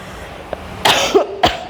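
A few short, sharp coughs close to the microphone, spaced unevenly in an otherwise quiet room.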